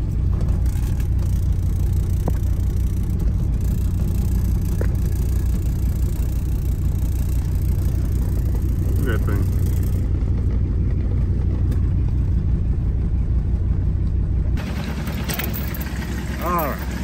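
A diesel station wagon engine drones steadily while driving in high gear, a loud continuous low rumble with road noise throughout, shifting slightly in tone near the end; faint voices may sit under it.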